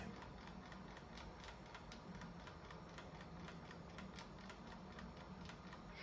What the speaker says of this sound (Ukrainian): Щось там він клацає, клацає.